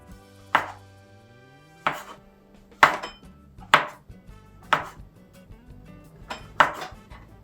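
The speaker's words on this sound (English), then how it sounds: "Cut them in the same style as the white button mushroom," Knife slices through white button mushrooms on a cutting board, seven or so sharp, distinct chops spaced about a second apart, close and clear with no talk.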